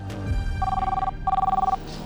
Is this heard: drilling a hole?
no